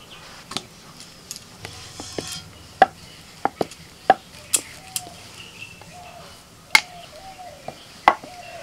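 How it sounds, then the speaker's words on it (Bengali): Dough for paratha being cut into fairly large portions on a board, sharp distinct knife taps at irregular intervals, close and clear, with someone speaking softly underneath. "পরোটার জন্য লেচি কেটে নিচ্ছে, আর লেচিগুলো একটু বড় বড় কাটতে হবে"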